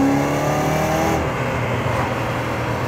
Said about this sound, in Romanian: să vedeți cum se aude acum mașina, în momentul actual.